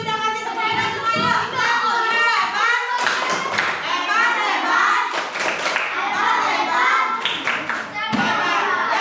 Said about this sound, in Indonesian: Oke, semuanya sudah kasih tepuk semuanya.